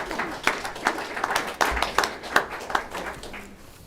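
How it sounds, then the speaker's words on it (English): Scattered applause from a crowd at a school board meeting, a series of sharp claps with uneven rhythm rather than a dense ovation, fading toward the end. "One more round of applause to show the huge crowd here."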